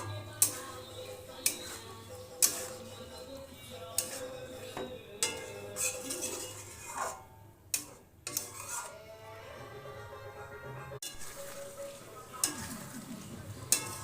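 Chicken stirred into a yogurt gravy topped with fried onions in a pan, quiet steady simmering sizzle under repeated sharp spoon knocks and scraping against the pan.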